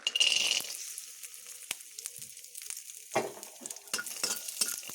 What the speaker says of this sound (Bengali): কড়াতে আমি আরও একটু তেল দিয়ে নিয়েছি আমি বাদামগুলোকে ভেজে নেব